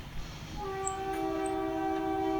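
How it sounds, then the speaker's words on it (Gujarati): A small diesel train's horn sounds in a long steady blast over a low rumbling engine, fairly close and building slightly, in Gir National Park. "જેવો ટ્રેનનો અવાજ આવ્યો ને એટલે બધા ભાગ્યવા માંડ્યા"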